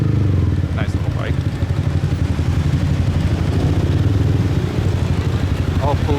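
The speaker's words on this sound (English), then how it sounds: "Nice little bike." Motorcycle engine running steadily on a night street in Saigon, Vietnam, a loud continuous low rumble with clattering texture throughout, brief pitched tones mixed in and a voice speaking over it.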